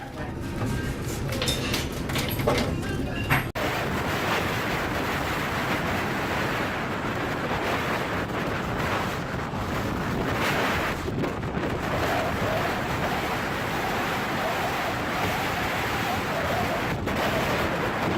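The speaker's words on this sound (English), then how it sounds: "A large fishing vessel flying the flag of the Netherlands confidently passes the waves in a storm." A storm at sea around a large Dutch-flagged fishing vessel: a steady roar of wind and crashing waves with heavy microphone buffeting and occasional sharp thumps, constant and loud throughout.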